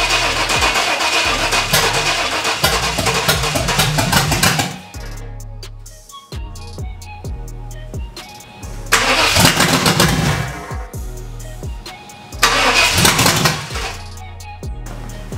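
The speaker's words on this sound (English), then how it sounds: "we're gonna go ahead and attempt to start the engine" A Chevrolet 5.7 Vortec V8 swapped into an S10 truck cranking and catching repeatedly after a fuel pump fix, loud starter whir giving way to a rough roar, then dropping back, with several attempts in a row.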